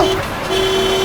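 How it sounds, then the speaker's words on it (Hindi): A loud, steady car horn blares close by with a sustained tonal honk, briefly dipping before continuing, over background traffic noise. "अरे क्यों हॉर्न मार रहा है? बहरा नहीं हूं मैं।"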